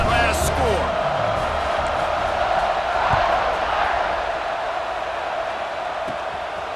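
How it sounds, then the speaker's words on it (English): A stadium crowd buzzing after a score in a Notre Dame college football video game, a dense, steady murmur of fans heard under an announcer's commentary. "this crowd is buzzing after that last score"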